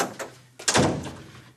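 A door swings open as someone steps into a bedroom in a family home, giving a soft knock-like bump, then a louder thud and rustle as it moves, close by and with no talk.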